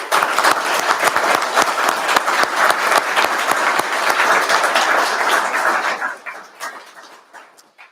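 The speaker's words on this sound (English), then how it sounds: "We might give all our recipients one last round of applause." Sustained audience applause at a Government House investiture ceremony honouring award recipients, dense and steady clapping for about six seconds before tapering off into scattered claps; a dog appears to bark faintly amid the noise.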